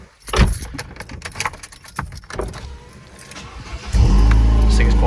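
A loud straight-piped Ford Fiesta with a dummy cat fires up in a dark garage, its engine catching abruptly and settling into a heavy, steady rumble after some earlier rustling and faint voices.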